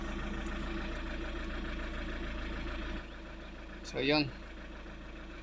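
Chevrolet Captiva engine idling after being started, a low, even hum that drops slightly in level partway through, with a brief spoken phrase over it.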